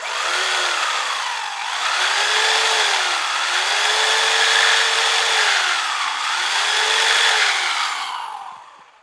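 A jigsaw cuts through wood while running off a portable power station, the Aaoyun 320 rated at 320 watts; a loud, steady motor whine rises and falls in pitch with each push through the board, then winds down at the end.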